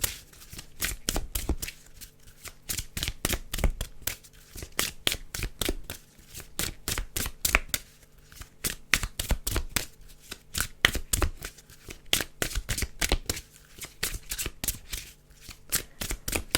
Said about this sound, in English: I always hit the microphone when I shuffle